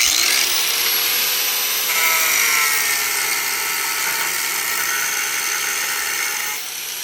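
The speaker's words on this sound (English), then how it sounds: "we're gonna go ahead and use our cutoff wheel" A cutoff wheel grinds through rusted, stripped screws in trailer decking, making a loud, continuous high-pitched whine that shifts slightly in pitch as it bites the metal, with no talking.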